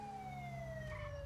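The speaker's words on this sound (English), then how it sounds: "I'm actually gonna turn our siren on until we get to the other side of the highway" Police car siren wailing in the video game GTA V with the LSPDFR mod, a steady, slowly falling electronic tone held close and loud with a low engine rumble beneath, no voices.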